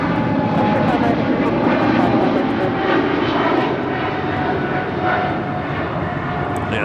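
A Boeing 777 airliner in special livery passes at Los Angeles International Airport, its engines a steady, broad roar holding close and loud throughout, with voices talking over it.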